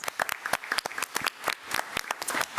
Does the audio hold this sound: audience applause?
yes